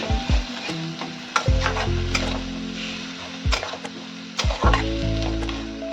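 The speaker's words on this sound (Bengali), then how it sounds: "মশলার জলটা দিয়ে দিচ্ছি। ভালো করে নাড়িয়ে নিচ্ছি।" Matar paneer in a pan with spice water added, stirred and scraped with several distinct utensil knocks against the metal over a steady sizzle, loud and close, no talking.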